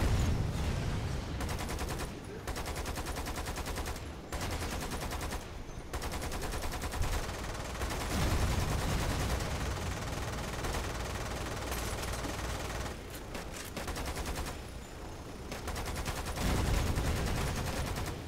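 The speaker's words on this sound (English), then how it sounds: "Oh, that's a train cannon shooting at us." Heavy automatic cannon fire from a train-mounted gun in the video game Lost Planet 2, sustained loud bursts of rapid shots with brief pauses, dense and close throughout.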